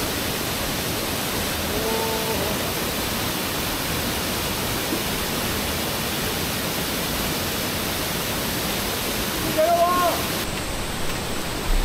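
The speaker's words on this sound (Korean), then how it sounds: "연산폭포에서 물 떨어지는 우렁차는 소리를 들으며" Steady roar of Yeonsan Falls plunging at Naeyeonsan in Pohang, a dense, even wash of falling water holding constant level throughout, with faint brief voices surfacing briefly near the start and again toward the end.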